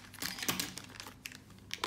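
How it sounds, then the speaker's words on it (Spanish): Scissors cut open a small plastic bag on a Banpresto Dragon Ball Z Son Goku figure during unboxing, giving close crinkling and snipping crackles in uneven bursts. "Con unas tijeras abrimos el plastiquito este."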